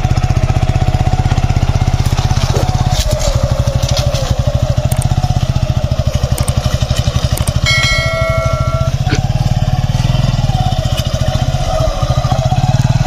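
A motorcycle engine idles steadily up close and rises in pitch as the throttle is slowly twisted and the clutch gradually released, with a brief whining tone partway through and no talk.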